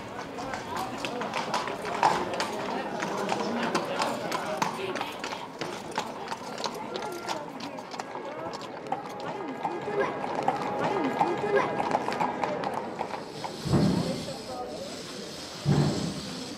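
Many horse hooves clip-clop steadily in a continuous Holy Week procession in Mendrisio, with a voice talking over the clatter and crowd noise throughout.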